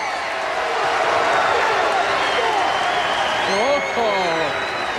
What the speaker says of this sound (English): And they're making noise. They're kicking. They're stomping.